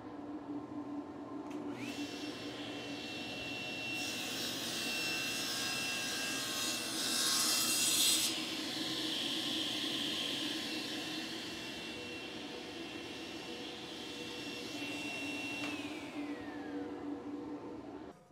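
A power saw with a fence, cutting wood for a wooden box, whines up to speed, roars louder during a cut for several seconds, then runs steadily before winding down, all close and without talk.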